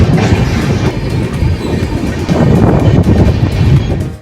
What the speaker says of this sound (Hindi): फाइनली अपनी ट्रेन 2 मिनट होल्ड के बाद बेगूसराय से भी डिपार्ट